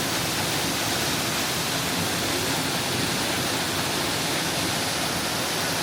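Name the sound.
Paddy's Falls waterfall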